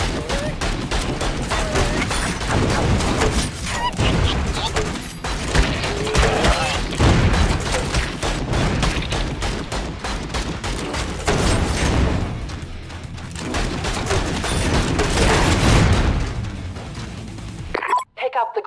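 Rapid weapon fire in the PC game Vicious Attack Llama Apocalypse, dense continuous bursts of gunshots and blasts running throughout, with a voice speaking over the action.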